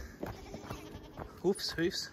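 Goats on a farm property give two short, close bleats in quick succession near the end, with a person talking around them.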